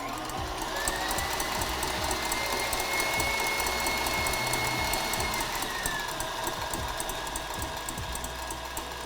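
An electric mixer runs on high speed whipping egg whites, a continuous whirring motor drone with a rising whine and a rapid rattling beat from the beaters, close and steady throughout.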